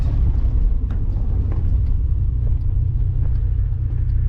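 A Honda Civic EM1 engine idling, close and loud, a steady deep rumble with a smooth, even pulse and no revving.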